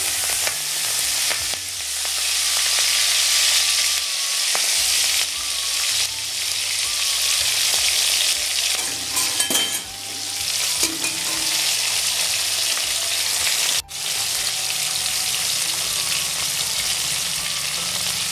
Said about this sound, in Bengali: নুন আর হলুদ দিয়ে কেটে রাখা চিংড়ি মাছগুলো ভেজে নেব।